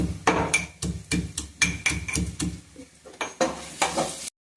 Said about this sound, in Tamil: பூண்டு நல்லா ஒன்றும் பாதியமாக நசுக்குனா போதும்